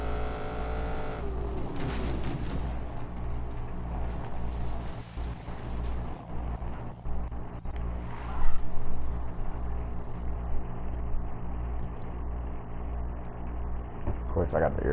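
A car engine in a PS4 racing game drones steadily in a low, layered hum, with a rev and a brief skid partway through, close and continuous.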